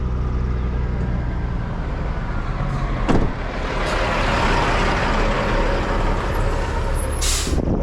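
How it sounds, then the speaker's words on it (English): A large triaxle truck rumbles past on a road, a loud continuous engine roar with a sharp air-brake hiss midway and another burst near the end, no talk heard. "Got a large triaxle truck coming down the road."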